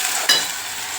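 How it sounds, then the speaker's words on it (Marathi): Ginger-garlic paste hits a hot pan of shrimp with a steady, close sizzle and a brief stir or scrape near the start, no voices. "आता आपला अद्रक लसूण जे आपण वाटेलं होतं ना ते पेस्ट यांना मग टाकी द्या."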